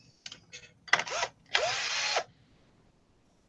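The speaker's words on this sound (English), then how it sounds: "Mine requires a drill." A pencil sharpener driven by a power drill whirs close by in two bursts, a short one followed by a longer, steady spin of under a second, with light clicks and handling noise before and a sharp tap at the end.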